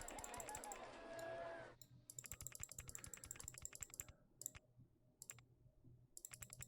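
Rapid clatter of computer keyboard keys being typed in quick bursts, close and crisp, with brief pauses between runs and a soft voice underneath at the start.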